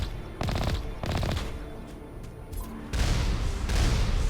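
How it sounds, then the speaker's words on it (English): Grenade blasts and weapons fire in the Mass Effect video game, several loud, rapid bursts of booming explosions and gunfire in clusters, close and punchy, with short gaps between volleys. "Those are grenades."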